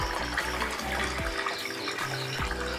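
Water is poured over the top of a small homemade model waterfall, a close, steady gurgling splash that runs without pause, with no talk.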